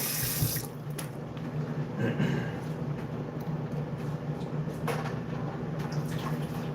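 Tap water runs steadily into a kitchen pot holding guavas for tamarind guava jam, a continuous close splashing rush with no talk.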